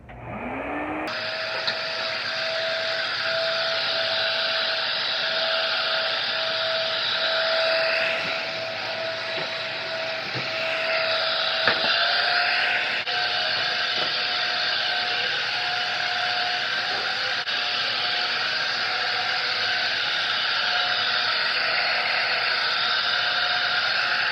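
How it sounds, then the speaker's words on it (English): A wet vacuum sucking floor stripper off a tile floor, a loud steady whine and roar that runs continuously, with pitch shifts as the nozzle moves and no talking. "now that I have vacuumed all the stripper up"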